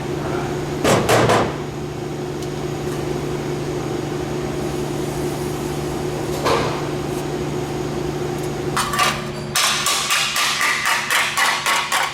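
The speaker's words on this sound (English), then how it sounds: "Now that's a hammer." Heavy hammer blows ring out in quick bursts during trunk work on a 1972 LeMans, a pair early, one in the middle, then a fast rhythmic series, over a constant mechanical hum.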